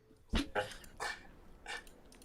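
Dogs bark a few times in quick, irregular bursts, fairly faint and somewhat distant, with nothing else prominent in between.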